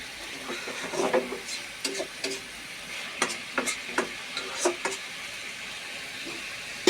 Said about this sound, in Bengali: এখন ভালোভাবে নেড়ে মিশিয়ে নেব পেঁয়াজের সাথে আর তেলের সাথে।